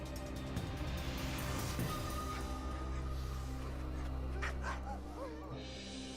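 Greenland sled dogs bark and whimper in a steady, continuous chorus over a constant low background hum, with several overlapping yips rising through the middle of the stretch.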